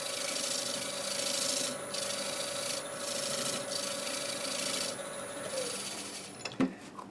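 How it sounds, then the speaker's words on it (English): Steady close rubbing of a white Scotch-Brite pad over a lacquered turned wood bowl, continuous abrasive hiss with slight rhythmic swells, ending with a brief knock. "I'm going to go over it with the white Scotch-Brite"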